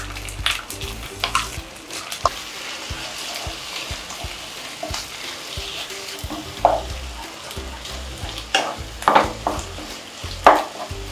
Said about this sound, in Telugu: అన్నీ మిక్స్ అయిన తర్వాత ఇప్పుడు చీజ్ వేసుకుందాం.